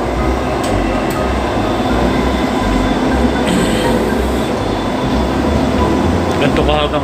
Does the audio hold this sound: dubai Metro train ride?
yes